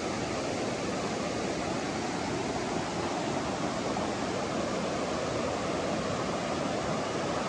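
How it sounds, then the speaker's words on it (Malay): Steady flowing river water at White Stone, a full, unbroken rushing sound close to the listener, with no speech and no change in level. "Ada sungai."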